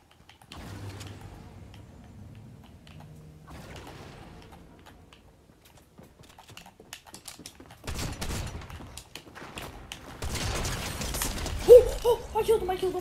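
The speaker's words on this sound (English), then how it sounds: "Oh, I heard the new gun." A new gun firing in Fortnite during the Star Wars event, with quiet mechanical game clicks followed by rapid bursts of gunfire that grow denser and louder toward the end.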